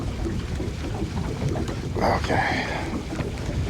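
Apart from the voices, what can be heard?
wind gusting down a river chute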